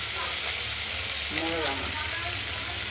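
Small mixed river fish such as mourala, chanda and chela fry in a pan with a steady, fairly loud sizzle, and a faint voice briefly rises over the crackling partway through.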